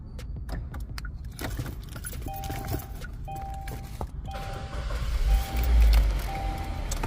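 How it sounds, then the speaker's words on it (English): Car keys jingle and rattle as one is pushed into the ignition of a car with an aftermarket remote start running, a busy metallic clatter over a steady idle, with a few faint chime beeps partway through. "We're going to put our key in."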